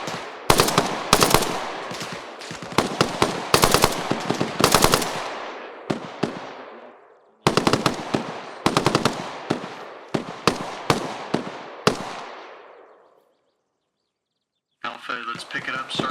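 Automatic rifle fire in a military simulation game: several loud, close bursts of rapid shots with short pauses between them, each tail echoing away, then a longer gap before a final muffled stretch.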